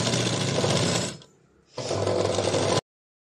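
A sewing machine stitches an aari-work blouse design in a fast, buzzing run, stops briefly for about half a second, then runs again before cutting off abruptly, close and alone.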